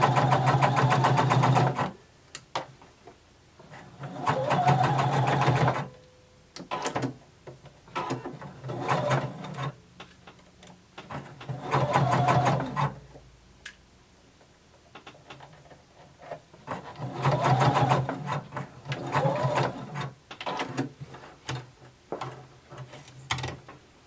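A sewing machine runs a long basting stitch through fabric in several close, steady bursts of rapid rhythmic whirring, broken by short pauses and quiet handling clicks between runs.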